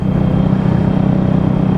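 A motorcycle engine idles steadily in a garage during repair work, a continuous low rumble held at an even level throughout, with no talking.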